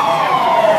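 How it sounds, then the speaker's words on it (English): An emergency vehicle siren wails loudly and continuously from outdoors, filling the whole short moment with a steady high tone and no talk over it. "As we say on set, hold for siren."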